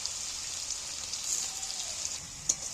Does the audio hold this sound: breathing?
no